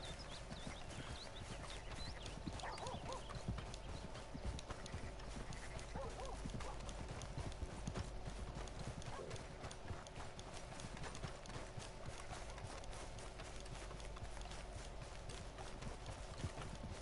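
Steady clip-clop of horse hooves from Red Dead Redemption 2, a continuous walking rhythm close by against a low ambient bed, with a brief whinny-like tone in the middle.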